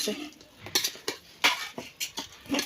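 A utensil stirs and scrapes food inside a cooking pot, making irregular clinks and scrapes at a close distance.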